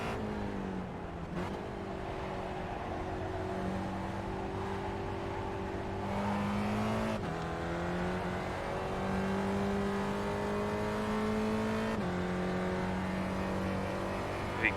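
A Gen3 Spec Racer Ford engine in the racing game iRacing whines and revs, pitch climbing through gear shifts with brief drops between, steady and fairly quiet, no voices.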